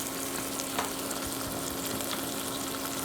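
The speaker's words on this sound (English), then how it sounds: "heat it up. I like to add a half an onion." Half an onion frying in a hot pan with leftover duck fat, a steady soft sizzle and crackle with faint stirring clicks, quiet and continuous with no talking.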